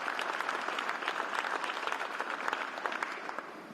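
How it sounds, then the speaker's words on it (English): Sustained audience applause greets an executive at a university football coach introduction, a dense steady wash of many hands clapping throughout, fairly distant and even. "let's give Don Oberhelman a big round of applause"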